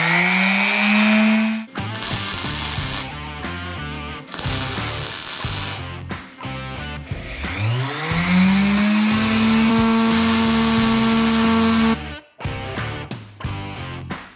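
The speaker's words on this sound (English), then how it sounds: "I just set up my my old wood router, ironically, since I'm using a router table. But this is modified for metal work, and I just put a drill bit in it" A wood router modified for metalwork spins a drill bit at low speed, whining in repeated bursts that start, stop and rise in pitch, loud and close with no talking.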